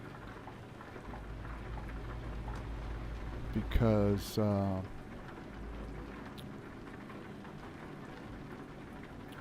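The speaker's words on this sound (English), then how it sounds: "it's a heavy rain." Steady heavy rain pours outside a car on a trip in France, with a short burst of speech cutting in partway through; no distinct thunder stands out.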